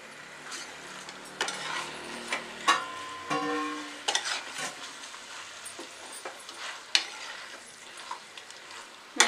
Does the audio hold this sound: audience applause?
no